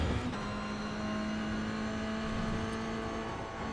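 A Toyota GR86 engine in iRacing holds a steady, droning note as the car runs up through the gears on track, with a faint shift click or two and no talk over it.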